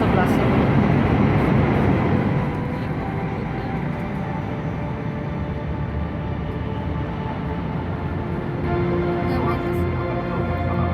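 Steady low rumble of a Hello Kitty Shinkansen bullet train in motion, heard from inside the carriage as continuous broadband roar that eases slightly after a couple of seconds.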